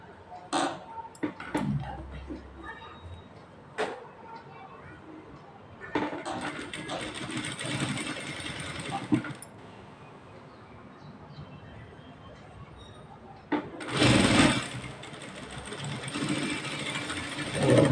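Sewing machine stitching a work blouse, several bursts of rapid whirring stitches separated by pauses with clicks and handling of fabric, the longest run loud and close near the end.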